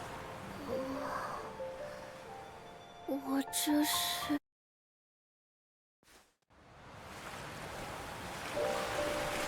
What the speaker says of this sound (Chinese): 海浪的声音